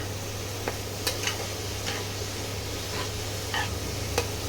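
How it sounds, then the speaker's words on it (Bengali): Spice paste is stirred into bottle gourd in a pan: a spoon scrapes and clicks at irregular intervals over a soft, constant sizzle and a low steady hum, close by, with no talking. "ভালো করে লাউয়ের সঙ্গে এটা মিশিয়ে নেব"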